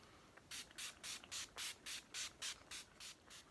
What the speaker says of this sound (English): add some of my Urban Decay All Nighter setting spray